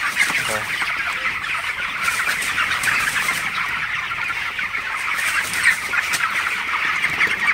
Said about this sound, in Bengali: আমার ব্রয়লার মুরগিগুলা মাশাআল্লাহ কতটা ভালো আছে আসলে